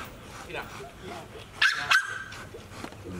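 A dog gives two short, sharp barks close by, surrounded by quiet background noise and some faint talking.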